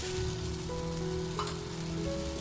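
Ghee sizzles steadily on a hot pan while cooking a rava recipe, a continuous close crackle and hiss with faint tonal hum underneath and no talking.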